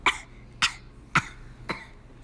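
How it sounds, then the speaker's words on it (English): Four short, dry coughs spaced evenly about half a second apart, close by, the last one a little softer. "Dry, itchy cough."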